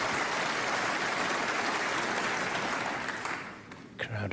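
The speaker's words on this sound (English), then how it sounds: "Crowd appreciating that shot." A snooker crowd at the 2018 Masters first-round match between Ronnie O'Sullivan and Marco Fu applauds a shot with loud, sustained clapping that fades over the last second.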